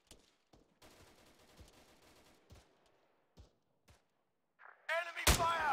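Gunfire in the Arma 3 video game comes as scattered, faint distant shots and thumps, then a sharp, louder burst near the end mixed with a raised voice.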